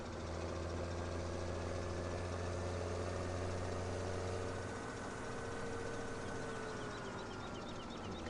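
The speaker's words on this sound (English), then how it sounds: "Fire the old engine up." Tractor engine idling in Farming Simulator 2017, a steady low rumble that holds constant and fairly quiet with no talk over it.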